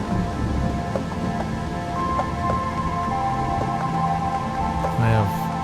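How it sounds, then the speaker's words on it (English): Steady rain falls with low thunder rumbling beneath it, a continuous ambient wash with tonal layers and brief swells, built as a relaxing ambient soundscape. "It's very relaxing, the sound of rain, for some reason."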